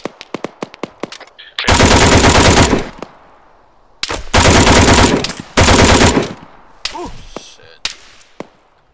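Automatic weapons fire in the desert combat game ArmA 3: sharp single shots give way to long, loud, sustained bursts of machine gun fire, then more scattered cracks and a distant whine.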